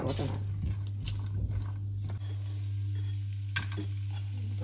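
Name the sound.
cashews and plums frying in ghee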